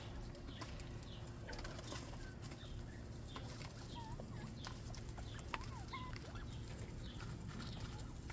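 Small chicks cluck and peep softly while pecking at a salad of seeds and worms, many brief chirps scattered through a noisy, hissy background, faint and somewhat distant.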